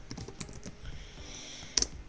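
Computer keys clatter softly as code is typed, with scattered quick taps and a brief sharper cluster near the end, faint and close with no voices.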